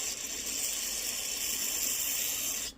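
A continuous, close, pressurized hiss of aerosol cleaner sprayed into a Troy-Bilt TB70SS weedeater carburetor, running steadily for a few seconds, then cutting off abruptly.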